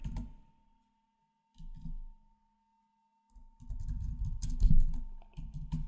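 Fingers type code on a computer keyboard during a Python exception-handling lesson, producing close, irregular bursts of clicking keys separated by short pauses, with no talking.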